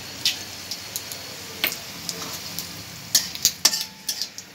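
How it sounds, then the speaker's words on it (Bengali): Bay leaves, dried red chilies and panch phoron spices hit hot oil, giving an irregular crackle of sharp ticks and pops with utensil clinks, loudest and busiest toward the end. "এই তেলের মধ্যে আমি দিয়ে দিচ্ছি তেজপাতা, শুকনো লঙ্কা আর একটু পাঁচফোড়ন।"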